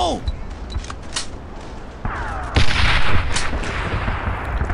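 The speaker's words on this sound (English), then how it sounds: "Grenade! Fire in the hole!" Grenade blast and gunfire in the World War II shooter Brothers in Arms: Earned in Blood, loud sharp cracks and bangs with a heavier burst midway, under an excited voice calling out.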